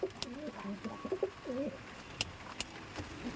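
Pigeons coo in soft, repeated throaty phrases close by, with a few sharp clicks and faint background noise between calls.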